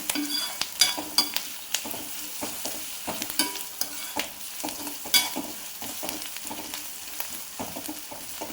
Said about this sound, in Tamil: இதில் 2 பச்சை மிளகாய், 2 வெங்காயம் போட்டு நான் வதக்கிட்டேன்.